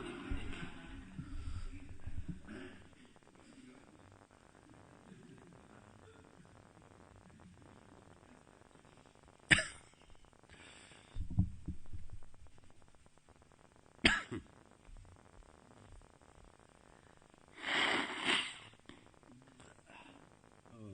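Several sharp, isolated coughs break a quiet stretch, with a longer rougher burst near the end; a little faint talk comes early on.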